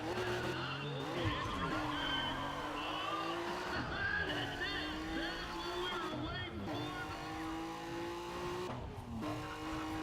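A Toyota Corolla in the video game Need for Speed ProStreet revs with a steady, rising and falling engine whine, tires skidding now and then, with background speech throughout.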